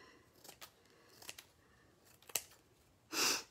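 Scissors trimming metal ribbon on a Christmas tree craft: several quiet, close snips spaced irregularly, then a brief louder crinkly rustle of the ribbon at the end, no voices.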